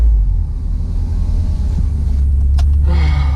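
A car drives along a road, with loud, steady low engine and road rumble and wind noise throughout, close-miked from inside the cabin.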